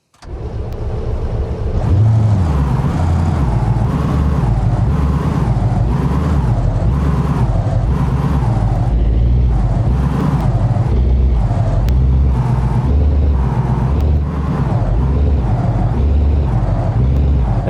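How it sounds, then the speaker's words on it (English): A truck engine in BeamNG drives and revs hard, a loud continuous roar with rising and falling pitch sweeps as it accelerates through gears, dominating the scene with no talk. "now let's go ahead and test out the truck here"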